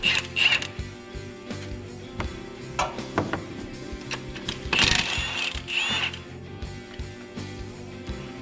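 A hand tool works a bracket off the engine of a 2001 Dodge Ram, with close, uneven metallic ratcheting clicks, creaks and scrapes over a steady low hum and a couple of louder clanks.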